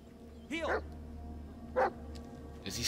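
In the Blair Witch video game, a dog gives three short separate yelping barks, one after another with gaps between, against a low, quiet background hum.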